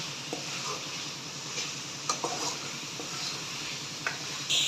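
Spices frying in a pan, heard as a soft continuous sizzle with occasional light scrapes and taps of a stirring spoon, fairly quiet and close.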